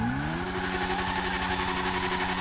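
In GTA 5, the engine of a custom drag motorcycle climbs briefly and then holds a steady, buzzing rev. It sounds close and loud, with a rapid pulsing texture and no voices.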